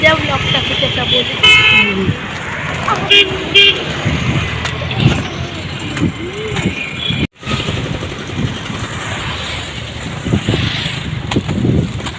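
Road traffic passes nearby with engine noise and several short horn toots, while people talk loudly over it.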